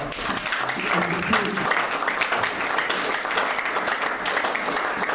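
Congregation applauding in a church service, steady dense clapping from many hands filling the room throughout, with voices mixed in under it.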